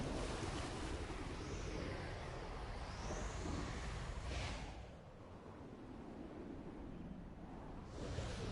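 Rushing water in the waterfall cave of Black Myth Wukong, a steady broad roar like surf with windy swells, dipping briefly mid-way before returning, no voices.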